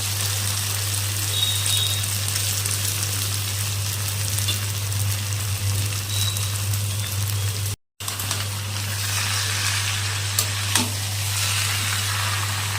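Radish pieces hiss and sizzle in hot oil with cooked spices, a steady, dense frying crackle that runs alone throughout, broken by a brief cut of silence midway, with a low steady hum underneath.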